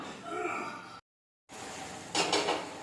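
A metal lid clatters onto a pot of simmering Tamil kuzhambu in a quick rattling clank, close by, following an earlier soft scrape of cookware.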